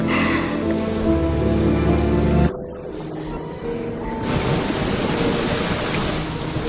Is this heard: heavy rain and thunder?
yes